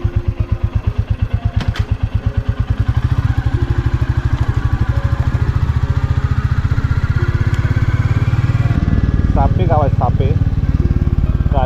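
A Royal Enfield Bullet rides along a rural monsoon road in India, its single-cylinder engine thumping in a rapid steady beat close to the microphone, with wind rumble and a brief horn-like tone near the end.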